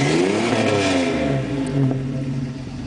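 A car engine revs and settles through a deep, throaty full Flowmaster exhaust, the pitch rising and falling in a steady, loud idle-to-rev pattern.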